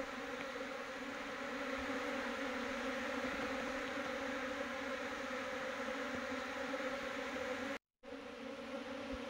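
Honey bees swarm around a wooden hive box in a dense, steady buzz that holds throughout, close and continuous with one brief dropout near the end.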